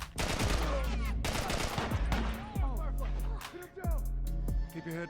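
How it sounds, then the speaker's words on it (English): Rapid assault rifle fire in The Last of Us, several loud bursts of automatic shots with ringing echoes and falling clinks between them, while voices talk over the gunfire. "The rifle's rapid fire completely tears through any ammunition we gather up"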